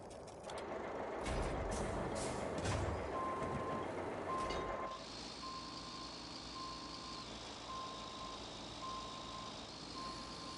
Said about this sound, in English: We're going to set the tractor out to the side right here while I go grab those other 2 truck frames.